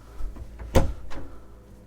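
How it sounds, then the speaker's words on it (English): A cabin door on a Sealine C430 motor yacht swings shut with a single soft thud and brief rattle, close and moderately loud, with a faint follow-up knock. "If we close this door over"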